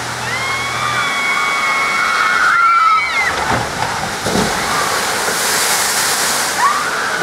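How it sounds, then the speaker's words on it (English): Log flume water ride at Flamingo Land theme park, with rushing, sloshing water and a broad splash from the boat's descent, heard beneath crowd noise and voices talking throughout. "Now I've seen the log ride or the river ride, whatever they want to call it"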